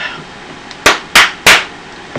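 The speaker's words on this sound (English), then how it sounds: "Your sandals announce your every step like tiny fireworks show gone wrong." Flip-flop sandals slapping with each step: three sharp, loud slaps in a quick, even rhythm, followed by a fainter fourth, heard alone with no talking.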